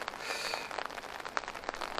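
Rain falls on a vegetable garden of carrots, beets, peppers, tomatoes and cucumbers, a soft steady patter with scattered close drops ticking on leaves and soil, faint and without talk.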